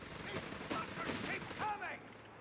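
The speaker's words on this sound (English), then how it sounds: "Skirmish is breaking out everywhere as the forces are finally meeting each other." Rattling gunfire bursts from a skirmish in Company of Heroes 3, with dense overlapping shots and battle noise, fairly faint under a commentator's voice that continues throughout.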